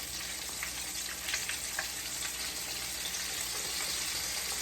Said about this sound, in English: you actually want your chicken to fry and not steam